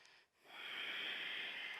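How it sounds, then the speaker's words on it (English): A slow, deep breath taken during a yoga exercise, soft and close, swelling into a steady airy rush after a brief pause. "Finding one more deep breath here."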